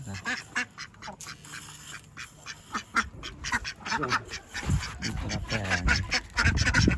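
Ducks quack and honk loudly and close by as they are fed grain and porridge, a busy overlapping chorus with a person's voice mixed in.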